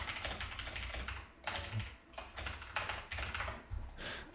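Rapid typing on a computer keyboard during a livestreamed game of Diplomacy, bursts of close, crisp key clicks with short pauses between, no one talking.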